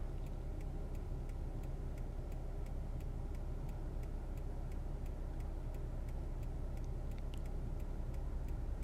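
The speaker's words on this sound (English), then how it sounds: "obviously I have my turn signal on, and I hope you can hear that in the background." A car's turn signal ticks in a steady, quick, even rhythm of faint clicks throughout, over the low hum of the car waiting in traffic on a drive in Connecticut.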